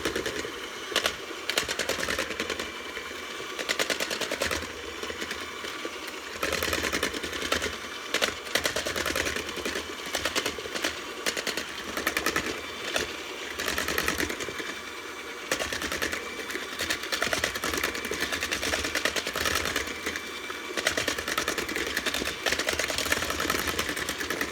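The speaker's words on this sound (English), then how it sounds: "mixer and put it on a low setting and just keep whipping that until they get frothy and white" Electric mixer whipping egg whites as sugar is gradually added for macarons, a steady, close mechanical whir with a faint rattling buzz running unbroken throughout.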